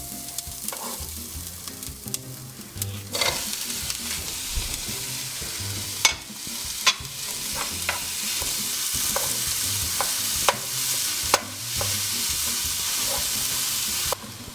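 Minced meat frying in a pan with slightly golden onions for an eggplant moussaka-style casserole, a steady sizzle with intermittent scrapes and knocks of a spoon stirring, close and continuous, no talking.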